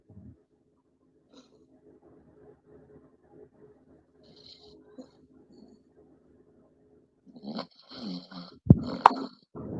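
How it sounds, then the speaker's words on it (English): Low, soft snoring breaths rumble faintly and irregularly through a quiet room, followed by louder rustling, snorts and handling noise near the end. "Who is that snoring?"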